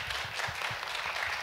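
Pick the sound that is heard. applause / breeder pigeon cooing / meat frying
applause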